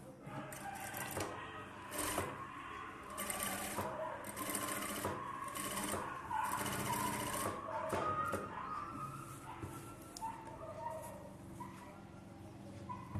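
A domestic sewing machine stitching the neck lining of a pot-neck blouse runs in a steady, close mechanical whir, pausing briefly and restarting, while a person talks over it.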